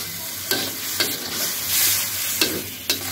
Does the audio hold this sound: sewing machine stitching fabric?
no